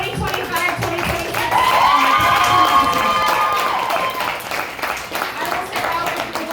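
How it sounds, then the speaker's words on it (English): At a debate banquet, a crowd claps and cheers for new team captains. The clapping rises under lively voices and shouts, with people talking throughout. "Round of applause for our"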